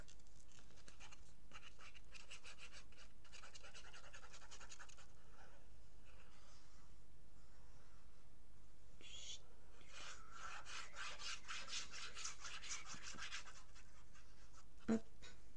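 Ink pad rubbed lightly along the edge of pink paper to darken the white edge for a scrapbook album, giving soft, close scratchy rubbing strokes in bursts with pauses, fairly quiet and without talk.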